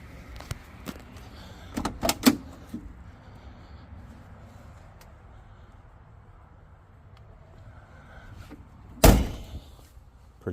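A few muffled thunks of the suicide doors of a rotted-out old Ford at a self-service junkyard, a cluster early on and one heavy slam near the end, against quiet outdoor background.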